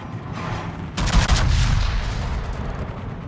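A single heavy naval gun salvo from the battleship Montana in a warship video game, a loud booming blast followed by a long rumbling decay, no talking.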